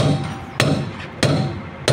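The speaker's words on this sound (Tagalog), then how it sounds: "shock absorber, pati yung mga clamp binabalik na rin, pinupukpok na" Three sharp metallic hammer strikes on clamps being refitted to a bus land at an even, unhurried pace, each ringing briefly before the next blow.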